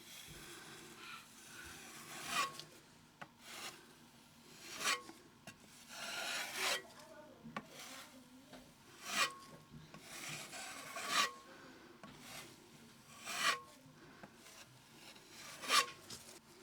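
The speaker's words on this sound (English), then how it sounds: "we're just going to add a bit of filler to that" Rhythmic rasping scrapes of a filler knife spreading wall filler into a large hole in an internal wall, repeated strokes about once a second, close and fairly quiet.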